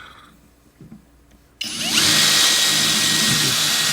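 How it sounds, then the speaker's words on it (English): After a quiet moment with faint handling noise, a power drill kicks in abruptly and runs steadily at high speed, loud and close, to the end. "I just start with a couple slightly larger drill bits"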